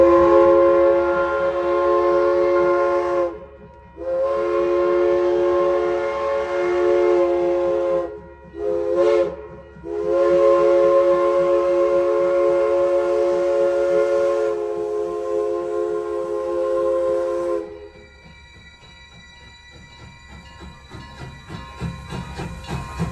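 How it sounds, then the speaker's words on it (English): A steam locomotive whistle blows in long, loud blasts with brief breaks as the engine arrives with a train into Silverton, then fades as it chuffs and rumbles nearby. "482 stomped into town with the first Silverton train."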